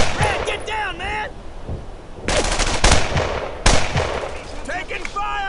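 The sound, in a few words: machine gun fire in the video game Brothers in Arms: Earned in Blood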